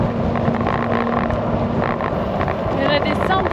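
Strong side gusts of wind buffet a cyclist riding through windy countryside lined with wind turbines, a steady loud roar of wind against the microphone throughout, with faint voices underneath.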